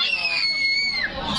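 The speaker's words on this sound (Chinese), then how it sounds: "尖叫声！" A high, sustained shriek, likely a child at a family meal, holding a steady piercing pitch before dipping and breaking off, loud and close.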